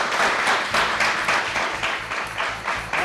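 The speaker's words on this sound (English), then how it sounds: "Let's have a big round of applause for them" Studio audience applause at a school science quiz show, loud and close, with a rhythmic pulse as the crowd claps partly in unison.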